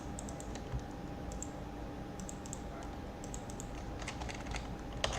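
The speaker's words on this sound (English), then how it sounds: "Click, click, click. Nothing happens." Rapid light clicks from a computer mouse or keyboard at a desk during Unity game testing, a faint steady run of taps over a constant room hum, with no talking.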